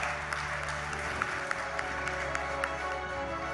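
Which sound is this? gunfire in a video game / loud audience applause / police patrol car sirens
loud audience applause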